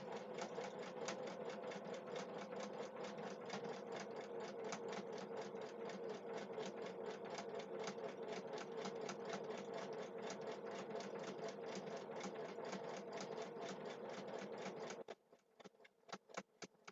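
A sewing machine runs steadily on a wide, short zigzag stitch with a fast, even mechanical chatter, then stops near the end, leaving a few soft clicks.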